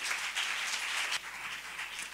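A church congregation applauding during a sermon, dense continuous clapping from many hands that dips slightly partway and carries on without voices.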